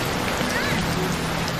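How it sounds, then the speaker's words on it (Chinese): Rain falling in a steady, dense wash of noise, close and fairly loud throughout the short moment, with no clear voices over it. "下雨了。"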